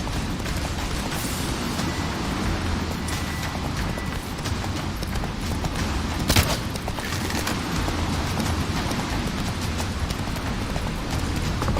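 A horse gallops in The Witcher 3, its hooves a steady clip-clop under a dense, loud game mix of rumbles and a brief sharp impact midway.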